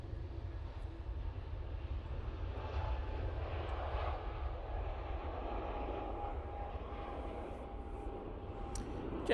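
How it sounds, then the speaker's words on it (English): A Jet2 Airbus A321neo departs Manchester Airport, its engines a steady distant rumbling roar that holds throughout with a faint whine on top. "Jet 2 A321 Neo departing there, and that's going off to Faro"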